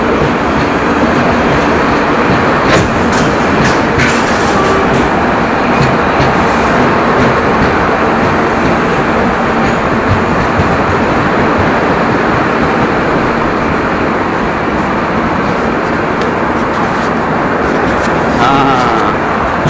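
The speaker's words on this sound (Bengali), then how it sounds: "এখানে আমার পছন্দের মানে ট্রেন এসে পড়ছে, তেজাস রাজধানী এক্সপ্রেস।" A loud, continuous rumble of the Tejas Rajdhani Express arriving fast close by, with steady rolling clatter from the wheels on the rails.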